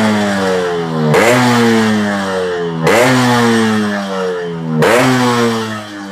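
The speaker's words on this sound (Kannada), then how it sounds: "ಈಗ ನಿಮಗೆ ಸೆಕೆಂಡ್ RX ಕೂಡ ನಾನು ಸೌಂಡ್ ತಿಳಿಸ್ಕೊಡ್ತೀನಿ" A Yamaha RX two-stroke motorcycle fitted with a chamber silencer revs hard three times, each blip snapping up sharply and then sagging back toward a raspy, crackling idle, loud and close with no voices.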